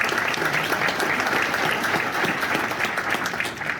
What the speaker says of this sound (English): And a round of applause for their work as well.